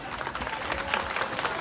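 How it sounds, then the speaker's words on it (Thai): A crowd at the Loy Krathong festival in Nakhon Phanom applauding, a fairly faint, steady wash of many hands clapping heard from a distance. "ขอเสียงปรบมือดังๆครับ"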